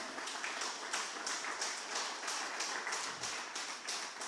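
Steady applause from a church congregation, a dense patter of clapping that continues without pause.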